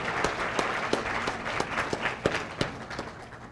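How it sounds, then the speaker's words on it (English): A round of applause from a conference audience, many hands clapping in a steady patter with a few sharper individual claps standing out, moderately loud and continuous. "But let's give him a round of applause."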